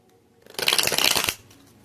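A deck of tarot cards is shuffled in one quick, close riffle that lasts under a second, with a crisp flurry of card flicks and no talking.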